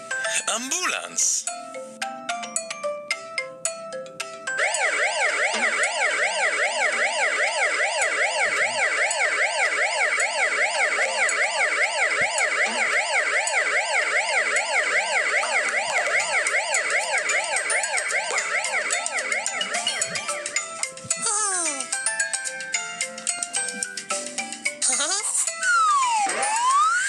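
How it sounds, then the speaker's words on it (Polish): A loud cartoon ambulance siren wails steadily, its pitch rising and falling in a regular cycle for about fifteen seconds, followed by a few quicker sweeping tones. "Ambulans."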